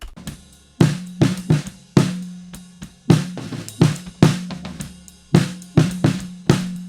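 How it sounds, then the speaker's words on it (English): Raw, unprocessed snare drum struck alone in a loose rhythm of single hits and quick doubles, each crack ringing with a low resonant tone around its body before decaying, close and dry. "what you're hearing is the raw snare"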